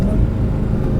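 A Dodge Hellcat Jailbreak idles in eco mode, a low steady engine rumble with a faint whine, heard briefly from inside the car.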